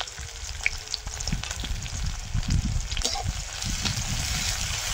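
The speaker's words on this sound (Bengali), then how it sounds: "পেঁয়াজ রসুনটা ভেজে নেব।" Chopped onion, whole cumin and crushed garlic fry in a pan with a close, continuous sizzle and crackle, stirred now and then, with no talk over it.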